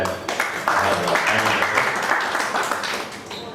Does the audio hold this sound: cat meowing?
no